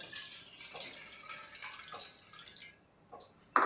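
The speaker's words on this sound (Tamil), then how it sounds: "அரிசியை வந்து முதல் நம்ம நல்லா ரெண்டு மூணு தடவை நல்லா கழுவி" Rice being rinsed in water for sweet pongal, a close, steady wash of sloshing and trickling water that thins toward the end before a sharp splash or clunk at the very finish.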